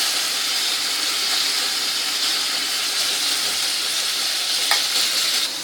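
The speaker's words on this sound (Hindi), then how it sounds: "जब तक प्याज भून रहा है" Onions frying in a pan together with tomato, garlic and ginger paste, giving a steady, loud, close sizzle that runs unbroken throughout with no talk.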